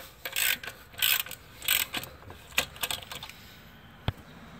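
Bolts on a Dodge Ram 1500 steering rack are snugged with a ratchet during a rack and pinion replacement, giving several bursts of quick clicking close by, followed by a sharp single metallic tap.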